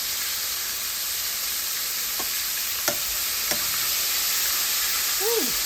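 Chicken fingers sizzle steadily in a hot pan, a constant frying hiss running throughout with a few faint clinks and scrapes.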